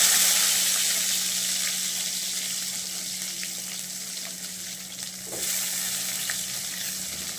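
Onions fry in a little oil in a pan for a South Indian chicken pepper gravy, giving a loud, steady crackling sizzle that fades slightly over time, with a faint clink partway through and no talking.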